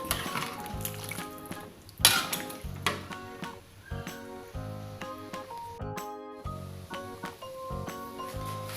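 Jengkol pieces stirred in a pan for semur jengkol give steady sizzling and frying under repeated clinks and scrapes of a utensil against the metal, close and moderately loud.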